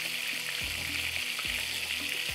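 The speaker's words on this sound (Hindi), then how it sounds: "सब तरफ से अच्छी तरह से आप इसको फ्राई कीजिएगा।" Minced keema with fried onion, nutmeg, mace, garam masala and red chilli powder sizzles steadily in a pan, a continuous close hiss punctuated by a few soft stirring scrapes.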